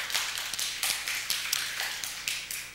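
A church congregation claps in praise during a sermon on Revelation, loose bursts of hand claps repeating every half second or so at moderate distance, with no talk over them.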